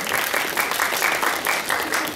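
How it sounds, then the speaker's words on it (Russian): Sustained applause from a festival audience at an opening ceremony, dense steady clapping that fills the whole stretch at even loudness, with no voices over it. "Аплодируем ярче!"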